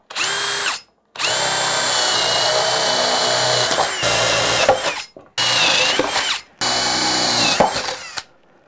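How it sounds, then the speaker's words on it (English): A power drill whirs loudly in several long bursts, pausing briefly between runs as it pre-drills through a wooden ledger on a basement bulkhead staircase, with the motor pitch dipping under load. "I'm going to pre-drill this just to get through"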